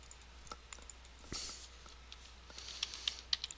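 Faint, sparse computer mouse clicks in a quiet room, a few soft single taps near the end, heard close with no talking.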